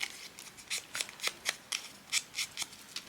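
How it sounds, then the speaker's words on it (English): Scissors snip through paper for a scrapbook page in a quick series of about a dozen short, crisp cuts, close and fairly soft, with no talk. "let's cut these down"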